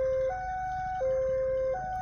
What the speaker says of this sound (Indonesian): sirine sudah berbunyi ya. Di JPL44 pertanda lokomotif ataupun kereta api pangrango akan segera memasuki stasiun Cisaat